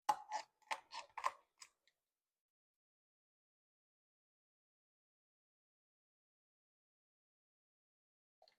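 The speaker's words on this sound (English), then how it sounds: "what we're gonna do is cut the backbone out of this chicken" Poultry shears cut through a raw chicken backbone: about half a dozen close, crisp snips in quick succession, followed by silence.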